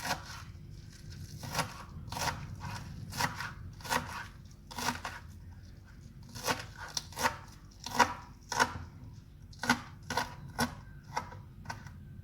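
Knife chopping green onions on a cutting board, a steady series of crisp taps in short bursts with pauses, close up, with no talking.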